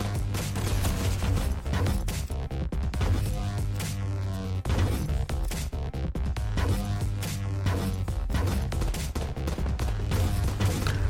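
Cannon fire and blasts from the roguelike shooter Starward Rogue, a dense continuous barrage of rapid booming shots over a steady low game drone, loud throughout.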